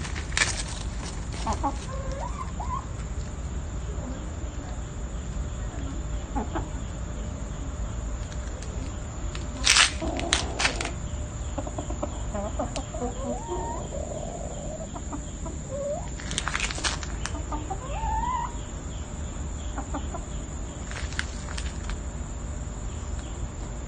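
Chickens cluck faintly and intermittently over a soft bed of chirping insects, with a few sharper squawks scattered throughout.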